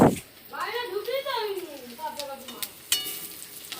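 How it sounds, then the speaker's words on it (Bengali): River fish sizzles and crackles in a hot pan with onions, with occasional stirring clinks, while a person speaks over the frying. "নদীর মাছ ভাজা"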